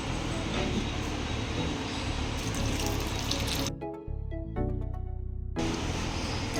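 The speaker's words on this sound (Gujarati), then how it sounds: "તેમાં આપણે પાણી લઈ લઈશું" Tap water runs steadily into a bowl in a home kitchen while wood apple pulp is set to soak, a continuous close rushing splash that briefly cuts off and then resumes.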